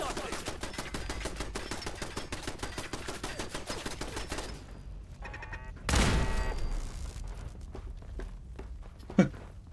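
Brotherhood turrets in Fallout 4 firing in rapid continuous automatic bursts that stop midway, followed by a loud burst of noise and a later sharp impact over quieter background.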